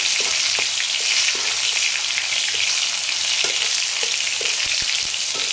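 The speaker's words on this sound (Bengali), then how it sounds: "টমেটোটা একটু নাড়াচাড়া করে আমি রান্না করে নেব।" Diced tomato fries and sizzles in hot oil for a Bengali basa fish curry, a constant bright hiss with scattered light scrapes and taps of a spatula stirring the pan, close and steady throughout.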